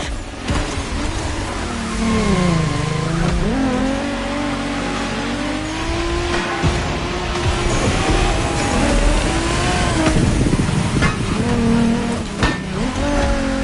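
Race cars speed together, their engines revving and shifting pitch as they accelerate and pass, loud and close with overlapping motor whines and a brief tire squeal, no talk.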